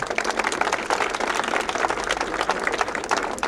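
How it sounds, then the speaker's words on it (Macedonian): An audience applauds at the opening of the Avtokomanda sports center, with dense, steady clapping from many hands filling the whole stretch at a fairly close, even loudness. "тоа е Кристијан Миладинов, еден голем аплауз за него."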